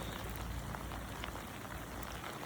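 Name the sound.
heavy rain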